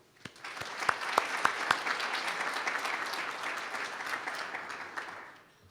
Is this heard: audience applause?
yes